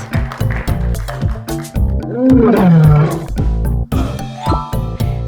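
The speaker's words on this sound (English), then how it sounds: "Which animal goes roar? It's the lion!" A lion gives a loud, drawn-out roar in the middle of a bouncy children's savanna animal quiz song, with the music playing steadily around it.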